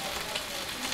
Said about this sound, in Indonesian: Kangkung goreng.